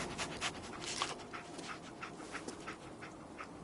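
Dogmeat, the dog companion in Fallout 4, pants steadily in quick rhythmic breaths up close, with faint small whimpers over low game ambience.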